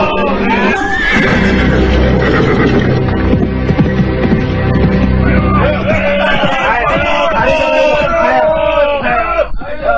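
Horse neighing with hoofbeats in a dramatic Indonesian radio serial chase, a loud close whinny standing out over a dense layered mix of crowd shouting and music throughout.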